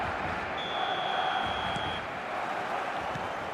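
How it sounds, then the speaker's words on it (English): A referee's whistle blows for kick-off in the eFootball video game, one steady shrill tone lasting about a second and a half over a loud, continuous stadium crowd roar. "There's the whistle, and here we go."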